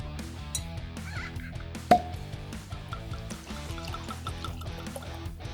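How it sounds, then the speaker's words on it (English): Whiskey poured from a bottle into a glass, a few gurgling drips and glugs over a soft musical background, fairly quiet and close. "So I'm gonna pour some out and let this breathe as we get more into this."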